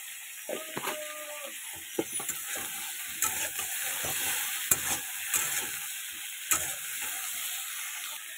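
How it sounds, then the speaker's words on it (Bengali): Eggplant and potato pieces fry in a pan with salt and turmeric, producing a soft continuous sizzle broken by frequent clinks and scrapes of a spatula stirring against the metal, with no voices. "বেগুন আর আলুটা আমার কিন্তু নুন হলুদ দিয়ে ভালো করে ভাজা হয়ে গেছে"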